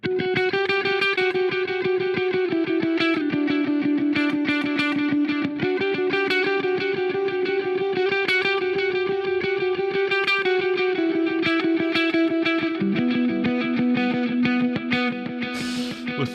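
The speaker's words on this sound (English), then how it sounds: "Clean delay." An electric guitar plays through a clean delay effect in a live looping setup, a continuous run of picked notes with repeating echoes layered into a dense, steady loop.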